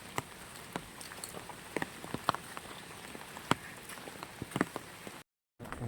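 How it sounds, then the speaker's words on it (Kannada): Steady rain falls on a trip toward a waterfall, a soft constant patter with scattered sharper drips and taps close by, continuing without any voices. "ಮಳೆ ಬೇರೆ ಬರ್ತಾ ಇದೆ."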